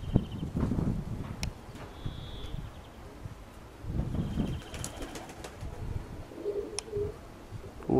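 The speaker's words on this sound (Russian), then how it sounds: "за фонарь заходит голубь" A pigeon coos in low, soft, throaty bursts near the microphone, with a few pauses between calls, plus faint wing or rustling noises and brief distant high tones, with no talking.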